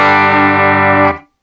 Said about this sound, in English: So here's the mid-tone boosted a little bit.